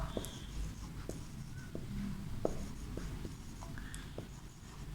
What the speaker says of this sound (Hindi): अब मैं यहाँ पे लिखता हूँ एक और जुमला